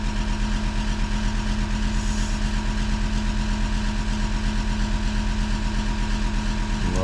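A diesel engine runs steadily with a deep, even rumble throughout while its injection pump timing is being set around 1200 rpm, ending in a brief rise in revs as it is accelerated.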